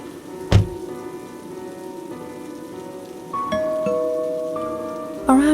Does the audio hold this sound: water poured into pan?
no